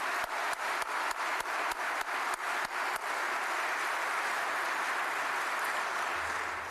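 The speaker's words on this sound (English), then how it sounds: "I think we owe them a round of applause" At a lecture, a few sharp, separate claps open a round of audience applause that swells into a dense, steady wash of clapping and holds to the end without fading.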